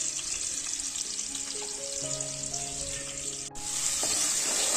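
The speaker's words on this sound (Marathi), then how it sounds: "आता तेल चांगलं गरम झालं आहे त्यात लसूण टाकून घेऊया" Garlic sizzling in hot oil makes a dense, steady frying hiss that runs close and loud throughout, with soft melodic background music underneath and no speech.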